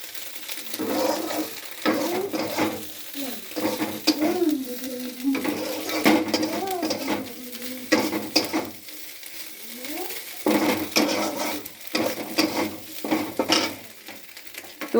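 Small fish frying in a kadai, steady sizzling with frequent scraping and clinking of a utensil against the pan, and intermittent talk over it.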